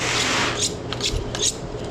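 A Victorinox boning knife has its edge sharpened, giving a few short scraping and rasping strokes, close and fairly loud, over a couple of seconds without any voices.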